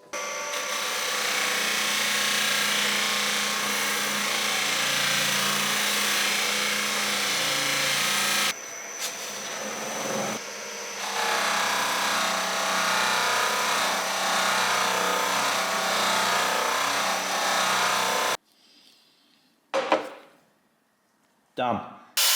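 A loose buffing wheel spins against old restored metal with a much finer polishing compound, a steady loud whirring rub for most of the stretch with two short gaps, then the motor cuts out and a few faint knocks follow near the end.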